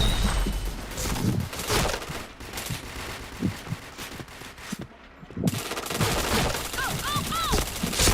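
Rapid automatic gunfire from the online shooter game Point Blank fills the clip in loud, dense bursts, breaking off briefly around the middle before resuming, with a few rising electronic chirps near the end.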